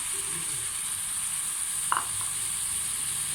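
Okra frying in a pan with tomatoes and green chillies, a steady soft sizzle with a brief clink of a utensil midway, close and continuous with no talk.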